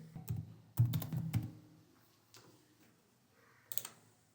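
Typing on a computer keyboard gives a short burst of quick clicking keystrokes near the start, a few scattered taps later, and one final cluster of clicks, close and quiet against a silent background.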